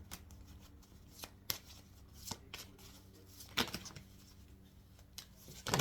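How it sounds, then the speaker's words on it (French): Tarot cards being shuffled by hand, with soft riffling flutters and sharp snapping taps at uneven intervals, close and fairly quiet, with no speech. "Donc on va sortir les cartes."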